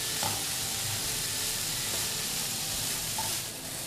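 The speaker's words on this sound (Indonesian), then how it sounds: "Sayur pare ditumis-tumis sebentar, lalu masukkan cabai merah besar." Bitter melon and large red chili stir-fry in a hot pan with a steady, close sizzle and faint stirring scrapes throughout, and no voices.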